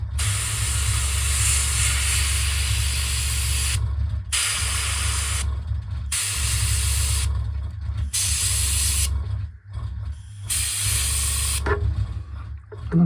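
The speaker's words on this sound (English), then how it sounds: "It's a double action airbrush, so if I squeeze down I'll only get air" Bursts of steady high hiss from a double-action airbrush spraying paint on a 1/48 Tamiya Austin Tilly model, repeatedly starting and stopping in several long blasts over a constant low hum.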